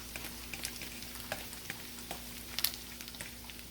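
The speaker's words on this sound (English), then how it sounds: "Get them all fried up. I'm going to scramble them. Look at them all bubbling over there." Peppered eggs frying and bubbling in a pan, a faint, steady crackling sizzle with small pops and light clicks close by, no voices.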